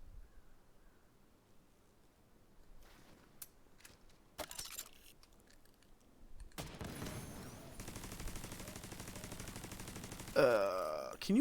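AK-47 fire in The Division 2: scattered sharp shots at first, then a loud sustained automatic burst in the latter half, with faint game sounds and talk around it.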